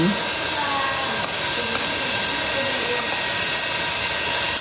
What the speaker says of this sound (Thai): สะดวกมากไดเป่าผมอันนี้แม่เลิฟมาก